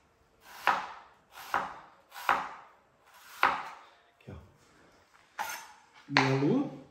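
A knife cuts an onion into thin half-moons on a board, six or seven distinct close chops at an even rhythm, ending with a brief, higher-pitched clink.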